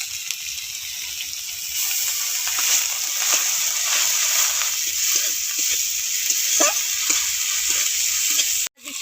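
Onion paste frying in hot oil in a pan, a loud continuous sizzle close up with soft scraping and stirring strokes running through it, cutting off abruptly at the end.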